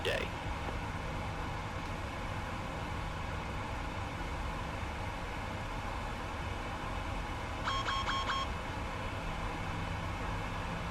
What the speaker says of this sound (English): Don't mind that beeping.